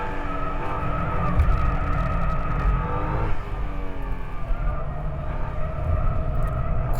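A 2011 Nissan GT-R Egoist corners hard on a track, its engine roaring steadily while the tyres give a sustained squeal, loud and continuous, dipping briefly midway before picking up again.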